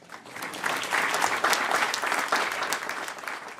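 An audience at the State of Black LA 2024 gathering breaks into clapping, building quickly into a full, even wash of applause from many people that holds steady for a few seconds.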